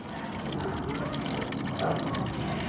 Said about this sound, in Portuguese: Vamos deixar o óleo escorrer aqui agora